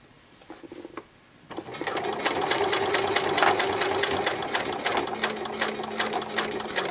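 A sewing machine top stitches a denim jeans coin pocket, starting after a brief quiet moment and then running steadily with a fast, even mechanical stitching rhythm close up.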